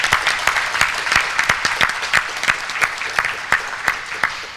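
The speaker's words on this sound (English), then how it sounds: "I think you need to give him a quick round of applause" A conference audience clapping in a hall, a short round of moderately loud, fairly sparse applause that tapers off.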